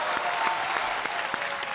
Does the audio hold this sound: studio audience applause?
yes